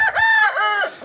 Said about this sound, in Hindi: बड़े मुर्गे रह गए